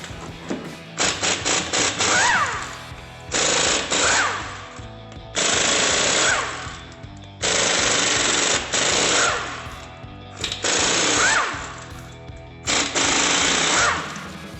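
Impact wrench zipping lug nuts off a GMC Sierra 1500 front wheel: six loud, close bursts of high-pitched rattling whir, each lasting one to two seconds, separated by short pauses with no speech.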